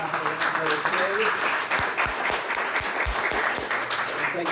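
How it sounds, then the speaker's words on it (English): An audience at a library candidate forum claps for the candidates, a moderate, even spread of applause with a few sharper nearby claps standing out partway through. "We'll give them a round of applause for their participation in sitting in the today."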